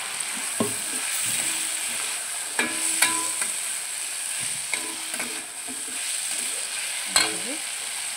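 Figs and potatoes fry in a pan with a soft, continuous sizzle while a spoon scrapes and knocks against the pan at intervals, close by and with no talking.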